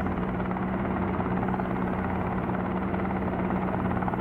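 In Helicopter Simulator, the helicopter's engine and rotor make a steady, loud, continuous whine and drone with a low hum running throughout, and no speech over it.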